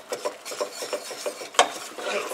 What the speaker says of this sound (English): And I like to usually whisk this